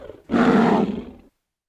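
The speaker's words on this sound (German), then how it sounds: "Und wenn wir jetzt mal an große Katzen denken, an Tiger oder Löwen, die brüllen." Big cat, a tiger or lion, gives one loud, close roar lasting about a second, rough and throaty, then cuts off to silence.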